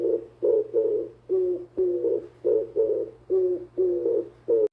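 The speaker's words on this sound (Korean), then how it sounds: "비둘기." Rhythmic pigeon cooing, a series of about ten soft, throaty low coos in close succession, near and moderately loud over a faint steady hum.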